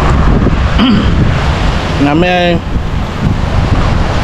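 Rough, storm-driven sea surf at high tide rolls and crashes in a steady loud wash, with gusting wind buffeting the microphone and a voice speaking briefly over it.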